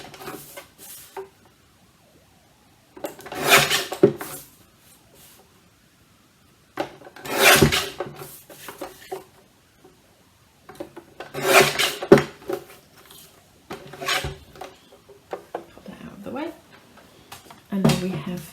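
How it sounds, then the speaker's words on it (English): Edges of a stamped craft piece trimmed along a stencil, short bursts of rough rubbing and scraping separated by quiet gaps, close by, with a person talking softly between bursts. "I'm just going to trim the edges off right up in line with the edge of the stencil"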